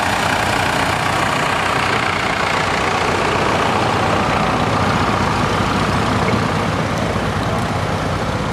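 A Cummins-powered IH 544 Hydro tractor idles at an outdoor tractor show, a loud, steady diesel rumble that holds without revving throughout.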